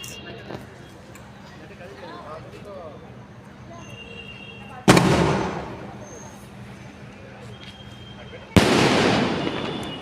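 A 30-shot firework cake fires outdoors, with two sharp, loud bursts a few seconds apart, each trailing off into crackle, over steady background noise and people talking.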